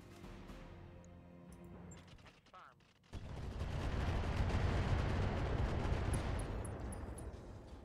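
Sniper artillery fires in the RogueTech BattleTech game: after a quieter stretch of faint tones and clicks, a loud, broad roaring blast erupts and rumbles on steadily for several seconds.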